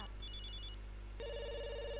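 A mobile phone rings in The Sims video game, its electronic ringtone pulsing in two clear bursts over a steady background hum, with no voices.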